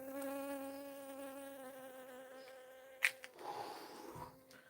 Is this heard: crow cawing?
no